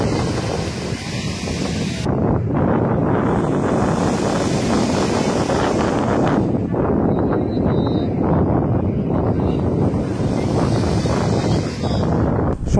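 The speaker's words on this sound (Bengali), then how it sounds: "এখন সমুদ্রের ধারে বসে দেখুন কি সুন্দর ঢেউ আসছে আর খুব সুন্দর হাওয়া বইছে" Sea waves and wind at Digha beach, a loud constant roar of surf blended with strong wind rumbling across the microphone, filling the whole stretch without speech.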